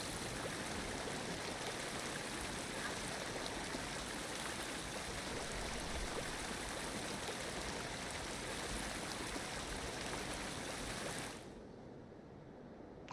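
Steady rushing water in a Prehistoric Kingdom game enclosure for Triceratops horridus, a loud continuous wash that runs unbroken and then drops away sharply near the end.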